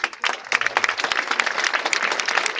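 At an evening folklore festival opening in Château-Gombert, the audience breaks into lively applause, a close, dense patter of many hands with distinct sharp claps, sustained throughout.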